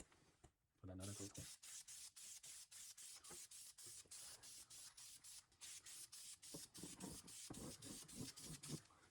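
Rapid bursts of aerosol spray paint on a Maserati Ghibli brake rotor, a long run of short hissing pulses in quick rhythm, close and steady, with brief speech near the start.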